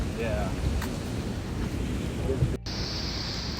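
Strong wind gusting between tall city buildings in Chicago, a loud, continuous roaring rumble buffeting the microphone close up, with a brief dropout near the end.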